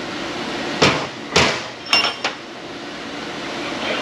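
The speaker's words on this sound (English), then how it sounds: "A couple of hammer taps here." Four sharp metallic hammer taps during a Ford F250/F350 suspension rebuild, unevenly spaced over about a second and a half, close and fairly loud, followed by quiet.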